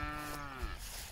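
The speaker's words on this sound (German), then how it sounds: "da läuft die Familie, die Kühe" A cow lows on a farm with a family of cattle walking by, a single drawn-out, fairly faint moo with a rising-and-falling tone.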